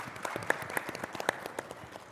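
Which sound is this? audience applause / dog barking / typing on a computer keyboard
audience applause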